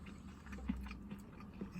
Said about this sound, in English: He's chewing right now, but that's a crunchy schnitzel.